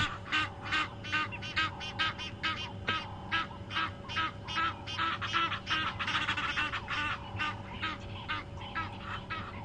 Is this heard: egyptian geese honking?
yes